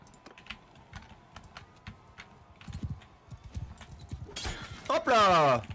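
Horse hooves clip-clop steadily in the video game Mount & Blade II: Bannerlord, soft and rhythmic, then a louder, harsher burst of sound rises near the end.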